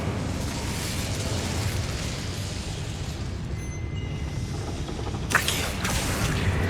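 Incendio fire spell cast in the video game Hogwarts Legacy, a steady roaring, crackling burst of flame filling the whole clip, with a sharper pop near the end and no talking.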